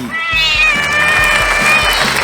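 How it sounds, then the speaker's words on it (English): A cat gives a long, drawn-out meow that holds loud and steady throughout, over a pulsing low beat of music. "the world's most amazing cat, Bucky."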